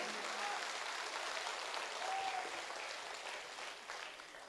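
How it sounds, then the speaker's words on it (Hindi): Audience clapping at a Hindi poetry gathering (kavi sammelan) in Rath, Hamirpur, a steady dense wash of applause that holds at an even level and thins slightly toward the end, with no talk over it. "मैं चाहता हूं पूरा सदन पीछे तक हाथ खड़े करके एक बार जोरदार तालियां बजाए।"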